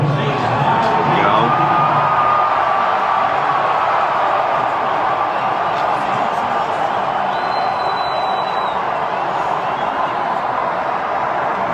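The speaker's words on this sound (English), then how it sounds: "You can hear the cheers" Stadium crowd at a Michigan football game roaring and cheering for Donald Trump, a dense, sustained wash of voices and whoops that stays loud throughout, with a brief whistle-like tone near the end.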